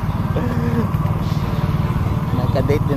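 A motorcycle engine drones steadily and close while riding through a town at night, with a person talking over the continuous hum.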